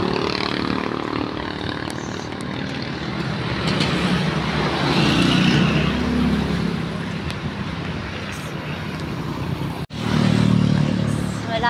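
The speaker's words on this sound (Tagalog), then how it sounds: "Bibilis na mga sasakyan ngayon." Road traffic on a Filipino street heard while walking home: cars and motorcycles pass in a steady, loud, continuous roar that swells and fades, with a brief dropout near the end before the traffic noise returns.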